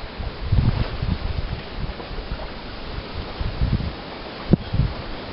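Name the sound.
wind blowing outdoors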